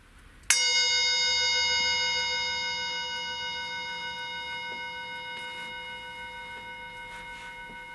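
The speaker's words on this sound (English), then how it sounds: "And I'll even ring the bell." A single bell is struck once to open a prayer and meditation session. It gives a clear, bright strike followed by a long, slowly fading ring in a quiet room.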